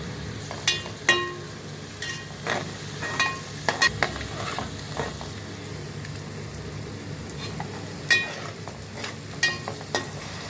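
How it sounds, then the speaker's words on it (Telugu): Onions and green chillies fry in a pan with a handful of leaves and turmeric, a steady soft sizzle under scattered sharp clinks and scrapes of a stirring spoon against the pan. "ఉల్లిపాయ, పచ్చిమిర్చి, ఈ రెండు బాగా వేగాలి."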